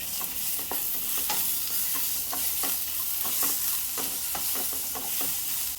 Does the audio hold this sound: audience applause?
no